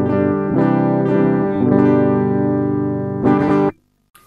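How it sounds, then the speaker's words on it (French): A clean electric guitar plays through a ROWIN Shaper pedal's preamp straight into a sound card with no speaker simulation, giving bright, ringing sustained chords with a few restrummed attacks before stopping abruptly. "ce que vous venez d'entendre, c'est le son du préampli directement dans la carte son,"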